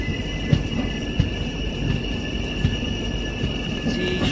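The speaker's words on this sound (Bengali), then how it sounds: "ট্রেন ঢুকছে শাহজাহানপুর জংশন" The Ganga Sutlej Express train rolls into Shahjahanpur Junction, a loud steady rumble with a constant whine, and periodic wheel clunks over rail joints spaced about two-thirds of a second apart.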